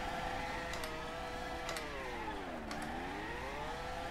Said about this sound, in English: Wait, can I do a standing burnout?